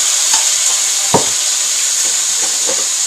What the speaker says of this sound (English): Very hot pan. I'm going to put a little bit of garlic in.